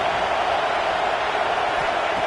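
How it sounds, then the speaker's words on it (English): Stadium crowd at a football game, a loud, steady roar of many voices filling the space throughout with no breaks. "Listen to the crowd energy here in the early going."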